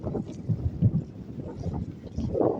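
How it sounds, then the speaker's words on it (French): Wind blowing steadily outdoors near wind turbines, buffeting the microphone with low rumbling gusts that rise and fall. "Ça n'arrête pas de venter."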